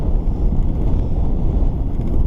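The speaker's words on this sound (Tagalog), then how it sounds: "Pero ngayon, sobrang lakas pala ng hangin." Strong wind buffets the microphone of someone cycling through a small town's farm area: a steady, loud, low rumbling roar with no pauses, and no other clear sounds.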